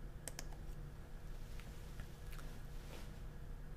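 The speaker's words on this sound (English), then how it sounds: "So go to the red record button and click record." A couple of faint, sharp mouse clicks in quick succession as the red record button is pressed in Panopto recording software, followed by a few softer scattered clicks in a quiet room.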